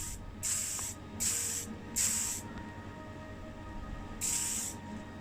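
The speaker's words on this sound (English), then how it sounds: "I'm going to go with a full spray can method today." Four bursts of aerosol spray paint from a can, each about half a second long, with short pauses between them, heard close and clear over quiet room tone, used for painting parts in a Toyota FJ40 custom restoration at home.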